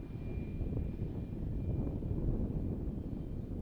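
Airliner noise at Tampa airport as an Avelo jet lines up on the runway: a steady, distant broadband engine rumble holding level throughout, with no voices over it.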